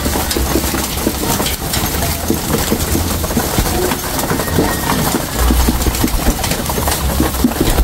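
Red tiger and black tiger pigeons coo in a crowded loft cage, with soft repeated throaty calls over a loud continuous low hum and no voices.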